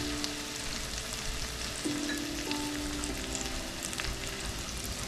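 Garlic fries in oil beside shrimp in a pan for shrimp soup, a quiet, even hiss that holds steady, with a faint background hum and no speech.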